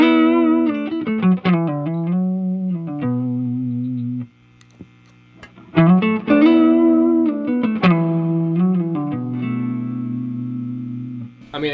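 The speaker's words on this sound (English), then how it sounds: "the reverb sound is super nice, but also that movement in the pitch is really hip" Electric guitar played through a Walrus Audio Fathom reverb pedal rings out in sustained chords and single notes, with lush reverb tails and a wavering pitch modulation, close and clear with a brief pause midway and no talk.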